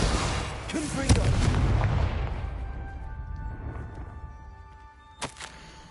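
A Confringo fire spell in Hogwarts Legacy bursts with a loud fiery blast that rumbles and fades, followed by a short, sharper pop later on.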